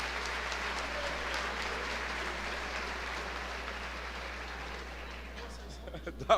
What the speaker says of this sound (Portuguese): Vamos aplaudir ao Senhor pela vida das mulheres.